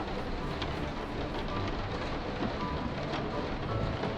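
Steady rain in the animal shelter management game Animal Shelter 2 falls as a dense, even hiss with soft patters, quiet and continuous throughout without voices.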